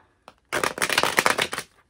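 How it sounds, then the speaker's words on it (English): A quick riffle of tarot cards being shuffled, a dense fluttering rush lasting about a second, close by, with no talking. "I just want to give this one last shuffle"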